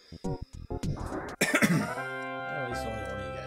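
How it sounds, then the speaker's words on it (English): A person coughs and clears their throat in a few quick harsh bursts, close to the microphone, followed by a lingering tonal sound in the background. "I'm trying not to cough."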